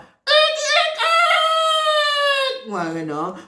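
A voice imitates a rooster crowing as a folk-tale trickster boasts of being a cock, one long loud drawn-out crow followed by a lower, wavering tail, alone without other talk.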